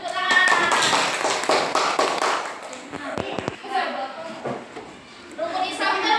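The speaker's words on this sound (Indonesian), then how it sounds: "beri tepuk tangan" Children in an Islamic primary school classroom clap their hands in a loose, rhythmic burst, close and fairly loud, trailing into scattered taps with chatter and voices in between.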